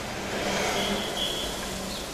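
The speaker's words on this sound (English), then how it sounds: "I bet you guys can hear it in the background of the city" Faint, steady city traffic rumble with a distant engine hum, no voices, constant low-level background noise.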